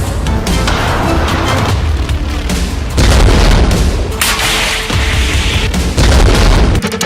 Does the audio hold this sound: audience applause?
no